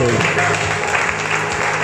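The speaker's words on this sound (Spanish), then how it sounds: "Aplaude al rey esta noche." A church congregation applauds during an evening sermon: dense, loud clapping fills the short stretch with steady intensity, with voices mixed in beneath it.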